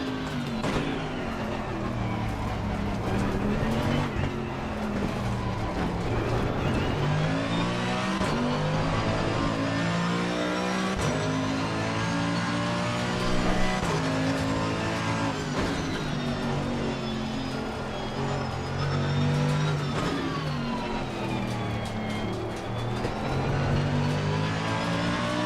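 A Mercedes-AMG race car engine roars at Paul Ricard in Assetto Corsa Competizione, revving up and down through gear changes with a rising and falling pitch, loud and close throughout, with no speech over it.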